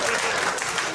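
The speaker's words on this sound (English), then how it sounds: "hear that applause?" A comedy-club audience at a stand-up show breaks into applause, a brief, loud, dense wash of clapping that fills the moment.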